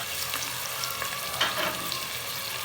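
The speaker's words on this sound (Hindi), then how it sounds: "अब इसमें हम लहसुन अदरक का पेस्ट ऐड करेंगे" Garlic ginger paste frying in a pan for an aloo methi curry, giving a steady, close, moderately loud sizzle with light stirring scrapes and no talking.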